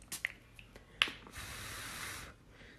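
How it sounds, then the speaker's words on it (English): Activator spray is misted over pastel yellow 3D nail art with flowers and pearls: a few faint clicks, then one steady, soft aerosol hiss lasting about a second, close and quiet. "I'm going to go ahead and spray the activator now that I'm done with these"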